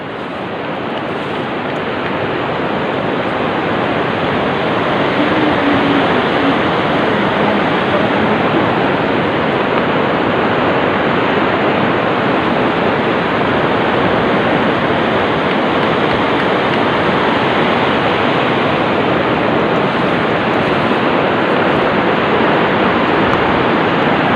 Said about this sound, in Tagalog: Maingay kasi yung tubig, bro.